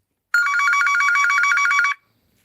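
A telephone rings with a fast electronic warble, one continuous ring burst of about a second and a half. The ring is clear and close, with no talk over it and quiet before and after.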